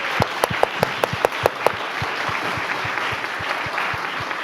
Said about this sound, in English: I want to ask that you join me in giving a big round of applause